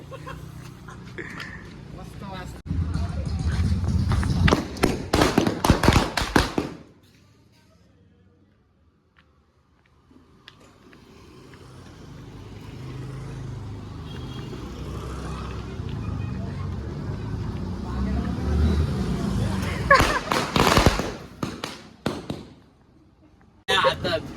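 Large firecrackers go off outdoors as a rapid string of loud, close bangs, followed by a lull with voices and crowd noise. A second burst of cracking explosions comes later, with people talking throughout.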